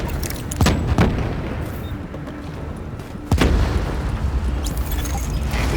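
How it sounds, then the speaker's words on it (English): Explosive blasts in the video game Tom Clancy's The Division: several sharp booming impacts spread over a few seconds, the loudest midway, over a constant rumbling background of distant fire. "we can see the explosion from here"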